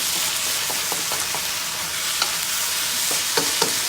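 Broccoli being stir-fried in a pan for a healthy stir fry, giving a steady close sizzle with scattered scraping and stirring clicks throughout, no talking.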